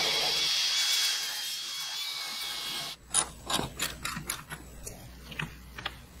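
A large car body piece being unbolted: a power tool whirs first, then a quick series of sharp ratchet clicks and metallic clanks nearby.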